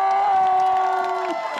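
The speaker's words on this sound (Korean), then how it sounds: "나이트 선수와 장경 선수에게 큰 박수와" Stadium crowd at a Nexen Heroes versus Lotte Giants baseball game cheering and applauding the players of the game, a steady loud roar with whoops and a sustained tonal sound running through it.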